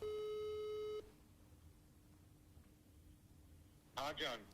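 A steady telephone tone plays for about a second, then gives way to quiet line hiss before a short burst of voice at the end.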